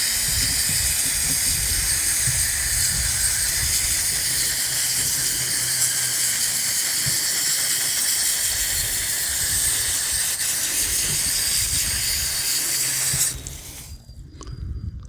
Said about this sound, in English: let's rinse it off